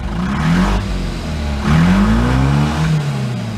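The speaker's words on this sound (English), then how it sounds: "It just revs up slow." A new mini truck engine, suspected to run poorly with wide spark plug gaps, revs up slowly in two rising pulls, a loud, close, rough drone climbing in pitch, with no talking.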